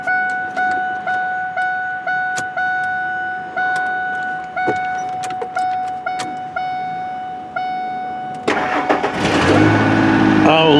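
A Ford F150 with a 4.2L V6 and an intermittent no-start fault cranks with a steady rhythmic chug alongside a continuous warning chime, then catches around eight seconds and settles into a loud, close idle.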